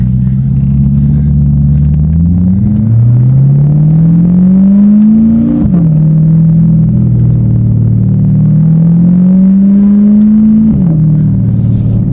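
A Corvette C8 Z06 engine revving through a modified exhaust, loud and close, rising and falling through repeated long sweeps with steady deep rumble between pulls.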